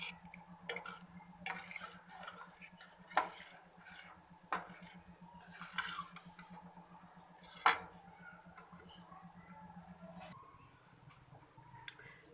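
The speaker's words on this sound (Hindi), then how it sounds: "अब मैं इसकी डिश आउट करूँगी।" Creamy milk vermicelli (milk sevaiyan) is ladled from a pot into a serving dish with a spoon: a few sharp metallic clinks and scrapes sound close by over a steady low kitchen hum, with no talking.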